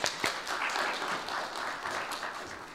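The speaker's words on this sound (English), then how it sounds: "Let's give them a round of applause" A crowd applauds steadily, a dense wash of many hands clapping at moderate distance for a few seconds.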